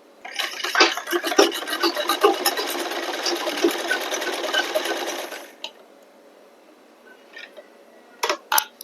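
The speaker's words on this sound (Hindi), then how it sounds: "एक दूसरे के ऊपर रखते हुए, सिलाई पर सिलाई रखते हुए हम सिलाई लगा देंगे।" A sewing machine stitching blouse fabric runs in a fast, loud, continuous whirring burst for about five seconds, then stops, leaving quiet handling noises and a couple of short clicks.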